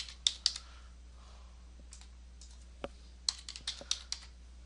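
Typing on a computer keyboard, scattered bursts of close, crisp key clicks with short pauses between groups.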